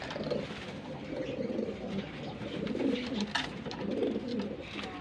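A big male Maxi Racer pigeon coos repeatedly in a breeder's loft, low rolling calls rising and falling in several bursts, fairly close and moderately loud, with faint bird chatter behind.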